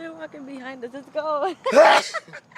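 A single sharp sneeze bursts out close by after a stretch of people talking, with more speech around it.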